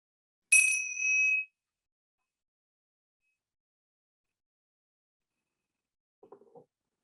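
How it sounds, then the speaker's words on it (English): A single bright ring of small bells opens a quiet reflection time, one clear chime lasting about a second before silence, then a few faint soft knocks much later. "I'm just going to ring the bells"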